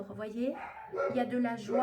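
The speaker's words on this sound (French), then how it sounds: "désolée pour les aboiements" Dogs bark and yip in the background, several short barks mixed under someone talking steadily in the foreground.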